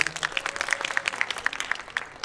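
Audience at a Paju village community festival event clapping, a brisk run of close, crisp handclaps from a modest crowd lasting a couple of seconds.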